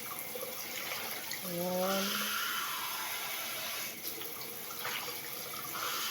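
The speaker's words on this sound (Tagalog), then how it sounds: "Lalagyan po natin ng tubig." Tap water runs steadily into a container holding a plant cutting, a continuous close splashing hiss with a short voice speaking over it.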